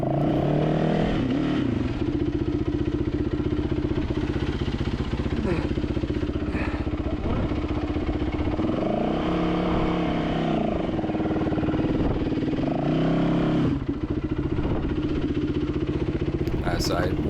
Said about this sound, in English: So I help walk the bike up a little bit.